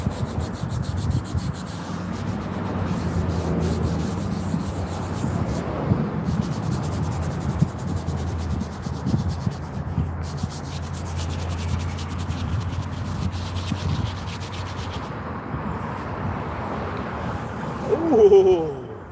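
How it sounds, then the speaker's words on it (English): A marble headstone being scrubbed with a brush in a cemetery, a continuous close rasping rub with short pauses and faint insect chirps in the background, no talking. "I guess that lady's never seen a man scrub headstones in a cemetery."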